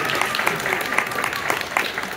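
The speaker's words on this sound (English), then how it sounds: "So a round of applause for them." A short burst of crowd applause at a high school signing day event, steady clapping throughout with a few sharper claps standing out.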